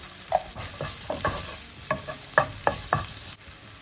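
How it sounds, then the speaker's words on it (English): Garlic cloves and finely chopped ginger sizzle in a pot of hot oil, with a steady frying hiss broken by several sharp scraping stirs and clinks of a utensil. "I'm just going to add 2 garlic cloves and a little piece of ginger"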